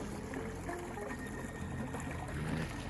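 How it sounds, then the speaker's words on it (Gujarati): Water flows and trickles steadily into a village pond after a night's flooding, a continuous gurgling rush with no voices. "જો પાણી પણ અવાજ કરે છે,"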